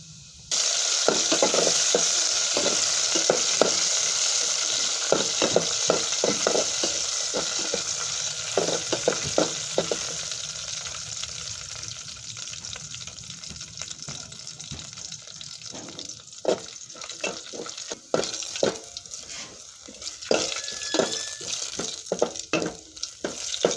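Garlic and dried chillies fry in hot oil for a haleem tempering, giving a loud, continuous sizzle with scattered crackles and stirring scrapes that ease slightly toward the end.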